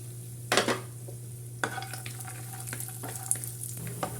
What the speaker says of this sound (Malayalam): കശുവണ്ടി ഒന്ന് നമുക്ക് ഫ്രൈ എടുക്കാം